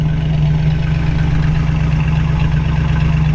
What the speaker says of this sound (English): Great, smooth running 350.